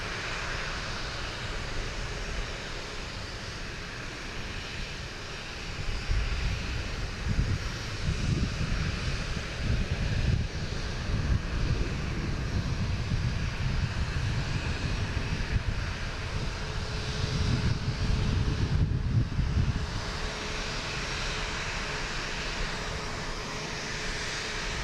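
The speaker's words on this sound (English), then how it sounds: "We have a Delta heading to Richmond. E-175, flight" A Delta Embraer E-175, flight 5665 bound for Richmond, departs Boston Logan. Engine noise swells into a rumbling roar partway through, holds for several seconds, then eases back toward a quieter background hum.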